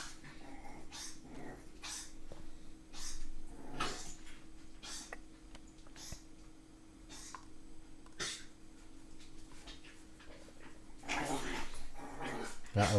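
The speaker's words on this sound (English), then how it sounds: "The dogs are freaking out." Several dogs bark sharply in irregular bursts, mixed with whimpers, growls and panting, fairly close, over a steady hum with some background noise.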